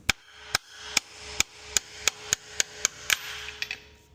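Extended wheel studs are knocked out of an aluminum car hub with a hammer: about a dozen sharp metallic blows land at a steady, quick rhythm, close and distinct, with no talking.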